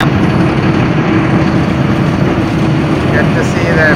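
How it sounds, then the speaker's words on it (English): Tour boat departing on the St. Lawrence River at Montreal, with a steady low engine rumble and wind buffeting a nearby microphone throughout, continuous and fairly loud. "The boat is leaving now."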